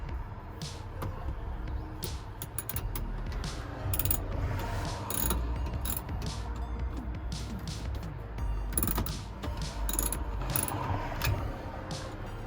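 A socket wrench with a 9mm socket tightens bolts during a van roof repair, ratcheting in rapid clicking bursts close by, with short pauses between runs.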